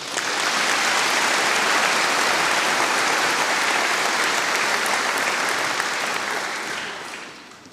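Dense, sustained audience applause fills a University of Otago graduation ceremony hall after a Doctor of Clinical Dentistry graduate is presented. It holds steady and loud for several seconds, then tapers off at the end.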